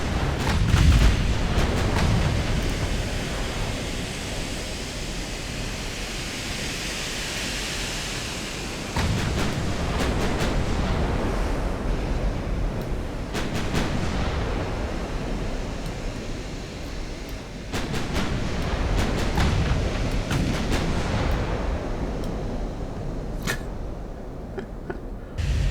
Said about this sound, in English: And a constant barrage of shells.